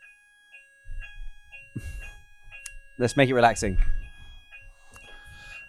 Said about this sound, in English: Breathe into the fire alarm and out to the fire alarm.